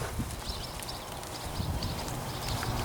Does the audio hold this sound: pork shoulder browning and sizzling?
no